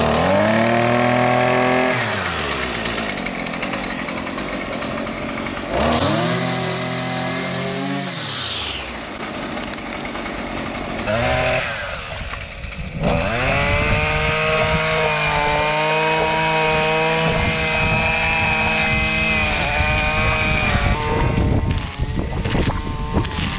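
A Husqvarna 128LD string trimmer's small two-stroke engine revs up loud and close, whining high, dropping back to idle, then surging again in repeated bursts before holding a sustained high-pitched rev.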